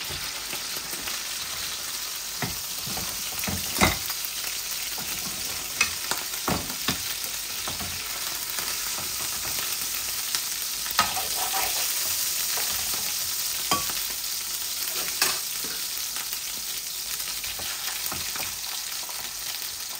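Tilapia fish fry in hot oil with a continuous crackling sizzle, dotted with intermittent clicks and knocks from turning or stirring in the pan.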